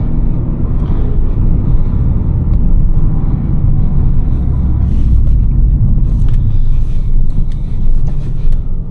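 An Abarth 595 engine hums steadily at low pitch with road rumble while driving through a residential area in Albacete, continuous and fairly loud throughout, no talking.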